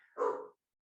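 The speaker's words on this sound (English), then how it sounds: "when my dog barks, it's just tipping me into that space" A single short, close dog bark, clear and loud, then silence.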